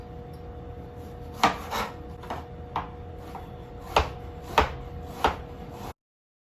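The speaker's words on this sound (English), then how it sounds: "I'm going to slice 15 washed strawberries into bite-sized pieces" Knife slicing washed strawberries into bite-sized pieces on a cutting board, a series of about eight crisp, close taps in an irregular rhythm over a quiet hum.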